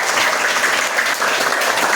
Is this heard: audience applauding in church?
yes